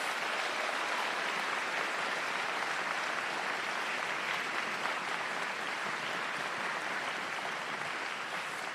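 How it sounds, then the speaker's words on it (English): A large audience at a county high school band concert applauds the band directors, dense steady clapping sustained evenly without a break and no voices over it. "Let's give those directors a round of applause."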